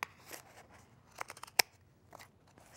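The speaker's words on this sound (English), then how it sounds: "take my scissors and cut off the bottom." A single sharp snip of scissors cutting through yarn, with a few faint rustles and small handling sounds around it in a quiet room.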